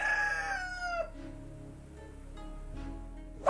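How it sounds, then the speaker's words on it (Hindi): A rooster crows loudly and close by, one long drawn-out call that falls in pitch, followed by a quieter stretch with faint farmyard noise. "यह मुर्गा तो अपने पुराने मालिक से दोबारा मिल अपनी प्रसन्नता चिल्ला चिल्ला कर व्यक्त कर रहा है।"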